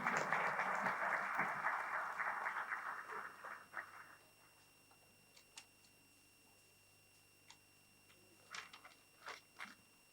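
Applause from an audience at a security leadership summit in a convention centre, loud and dense for about four seconds, then fading into a few scattered late claps.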